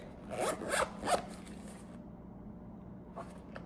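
Zipper on a pocket notebook cover being zipped in a few quick, close pulls, with a short pause and one faint pull at the end.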